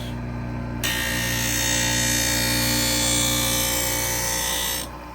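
A Wissota 911 sharpener grinds a carbon steel skate blade set to a half-inch radius of hollow, one steady pass of harsh, hissing abrasion over a low motor hum, lasting about four seconds before it drops back to the idle whir.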